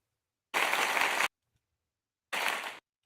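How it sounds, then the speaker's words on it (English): Two short bursts of recorded applause sound effect, the first about a second long and the second shorter, separated by silence and starting and stopping abruptly. "I give them the applause."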